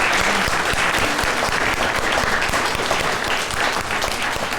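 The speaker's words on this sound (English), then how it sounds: "I think we should give our candidates a round of applause again." Steady, dense audience applause at a board of directors candidates forum, many hands clapping continuously and fairly loud throughout with no letup.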